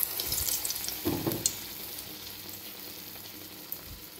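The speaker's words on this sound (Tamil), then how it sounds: "இப்போ பாருங்கள் எல்லா பாசி பயிர் வடையும் தட்டி எண்ணெயில் போட்டாச்சுங்க" Moong dal vadas frying in hot oil, a faint, steady sizzle with a few louder splashes and bumps near the start, and no voices.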